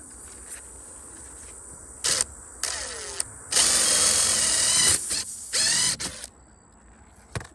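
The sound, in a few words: drill bit boring into tire for plug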